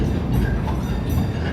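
The Cedar Point & Lake Erie Railroad amusement park train rumbles loudly and steadily along its rails, a close, continuous rolling sound with no talking.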